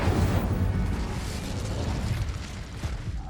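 An Incendio fire spell bursts with a loud whoosh and rumbling boom in Hogwarts Legacy on PS5, then decays into a roaring, crackling tail that fills the whole moment.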